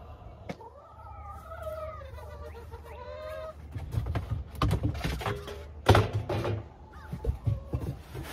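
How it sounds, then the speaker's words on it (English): Hens on a small family farm cluck and call in a bright, wavering run early on, followed by scattered bird noise and shuffling at feeding time on a chilly day, with no talking. "the chickens,"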